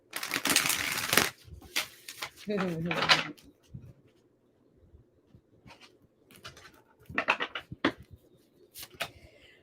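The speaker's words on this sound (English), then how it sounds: "one more shuffle for Cancer" Tarot cards are shuffled in quick, crisp bursts, with pauses between and a brief murmur of a voice in the middle.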